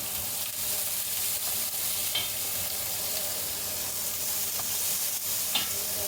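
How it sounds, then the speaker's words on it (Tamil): Fennel seeds and onion fry in a pan with a continuous hissing sizzle and a few soft stirring scrapes, fairly close and steady, with no talking. "பெருஞ்சீரம் வெங்காயம் போட்டாச்சு"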